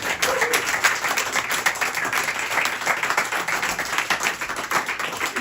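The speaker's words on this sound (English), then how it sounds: "Give him a round of applause" An audience applauds Gareth at a live event in the Steinway Room, a steady burst of clapping lasting several seconds, close and dense.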